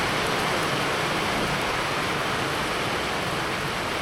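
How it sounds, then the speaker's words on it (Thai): Rain falls steadily in a remote rural Lao village, an even, unbroken wash of hiss at constant loudness with no voices. "ฝนตกพี่น้อง"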